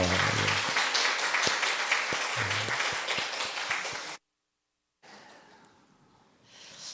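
A church congregation claps in welcome during a Sunday morning service, steady dense applause for about four seconds with a few voices beneath it, then an abrupt cut to a quieter room.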